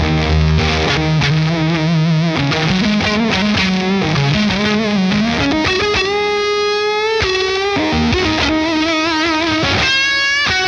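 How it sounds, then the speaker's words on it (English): Electric guitar played through a Jam Pedals fuzz pedal, a thick, saturated distorted tone with sliding, sustained notes, loud and continuous with no talking. "Let's throw on some fuzz."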